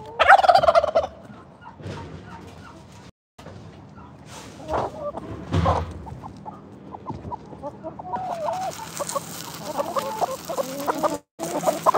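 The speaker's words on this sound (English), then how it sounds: "Let me go check on the turkeys." Turkeys at a farmhouse animal sanctuary gobble repeatedly, with bursts of gobbling throughout amid clucking fowl and outdoor ambience, fairly close and loud.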